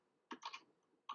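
Quiet computer keyboard typing, a few soft close keystrokes in a quick cluster followed by one more tap after a short gap.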